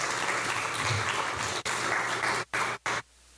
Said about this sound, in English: let's give Massage a round of applause